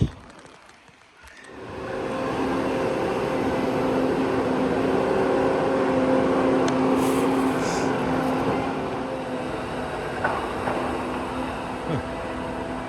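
A steady engine drone builds and holds as small off-road vehicles pass nearby, a continuous motor hum lasting throughout with no one talking.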